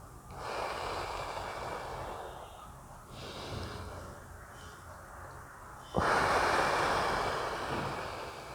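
A forceful human exhale during a breathing exercise, heard close as a breathy, rushing blow that swells, eases, then comes again as a sharper, louder gust before slowly fading.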